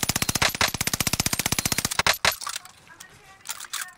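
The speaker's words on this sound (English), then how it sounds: "I got shots on him" Rapid automatic gunfire in Call of Duty: Modern Warfare, a loud steady stream of about twenty evenly spaced shots over two seconds, then a few separate bangs and quieter game noise.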